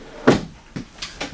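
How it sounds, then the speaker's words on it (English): A drawer in a 2024 Forest River Flagstaff Micro Lite 21DS camper, heard as a sharp close knock followed by a few lighter clicks and taps in quick succession. "We got ourselves a drawer."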